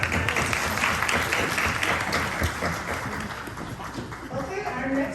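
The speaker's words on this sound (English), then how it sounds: "Congratulations and another round of applause for Amaya." Steady applause from a graduation audience fills the room and continues evenly, with a voice speaking over it near the end.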